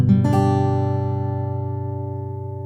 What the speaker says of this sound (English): And now I'm strumming all 6 strings.